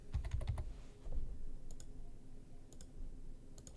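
Quick, light computer keyboard typing comes in scattered bursts of clicks, close and fairly quiet, with short pauses between the runs of keystrokes.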